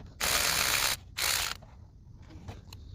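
A ratchet works on an alternator bolt of a 2008 Honda Accord 3.5 V6, giving two close bursts of rapid clicking separated by a short gap, followed by faint tool handling and small knocks.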